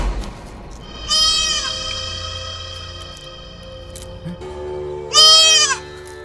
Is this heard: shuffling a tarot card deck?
no